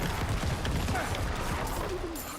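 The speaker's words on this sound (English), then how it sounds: "Corpse explosion is so good." Corpse Explosion skill from Diablo IV goes off in a rapid cluster of dull bursts and crackling impacts, dense and continuous over a busy game soundscape, with no speech.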